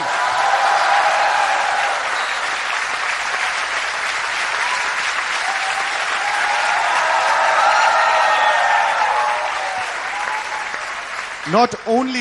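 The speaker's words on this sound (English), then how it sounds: "please give yourselves a huge round of applause" Loud, sustained applause from a large crowd, dense clapping that holds for several seconds before a brief voice cuts in at the end.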